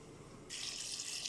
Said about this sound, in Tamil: ராஜ்மா வேகிற அளவுக்கு தண்ணி ஊற்றிக்கலாம்